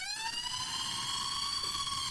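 A siren alarm sound effect, a bright wailing tone with stacked harmonics rising steadily in pitch, loud and alone for about two seconds.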